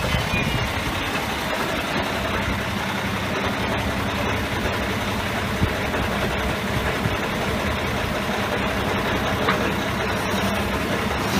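A tractor-trailer truck engine idles in first gear as a steady, broad rumble that stays loud and even from start to finish, with no voices.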